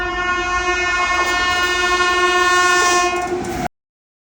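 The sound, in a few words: express train passing by on railway line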